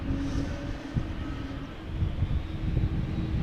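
An airliner with geared turbofan engines departs Amsterdam Schiphol Airport, a steady broad rumble and whoosh of engine noise, moderately loud and swelling slightly toward the end.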